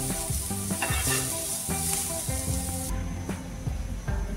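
Potatoes frying in hot oil for aloo chaat, a steady close sizzle and crackle running throughout, with faint stirring clinks and no talk.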